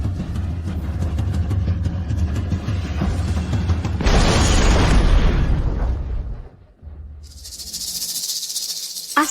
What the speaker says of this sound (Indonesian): Bahan peledaknya akan meledak,